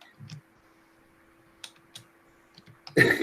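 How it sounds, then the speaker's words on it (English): Sparse clicks of keys on a computer keyboard sound faintly and irregularly over a low steady hum, then a louder burst of noise closes the moment. "Sorry, I'm typing, guys, if that's coming across."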